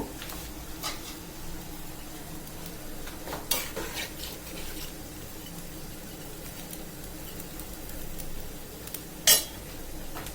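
Potatoes and spiny gourd are stirred through a cooked spice paste in a pan, with scraping and a soft sizzle throughout and an occasional utensil clink, the loudest near the end.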